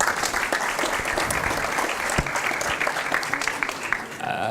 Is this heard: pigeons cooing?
no